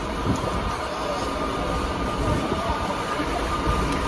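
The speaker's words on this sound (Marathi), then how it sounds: "आम्ही लोकांनी पनवेलवरून ट्रेन पकडली आहे" Steady rumble and rattle of a passenger train in motion from Panvel, heard from inside a carriage, with continuous low clatter and no voices.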